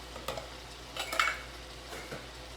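Diced tomatoes from a 14.5-ounce can dumped into a pan of cooking keto jambalaya, then stirred: a soft wet plop and a few scraping stirs against the pot, faint and close.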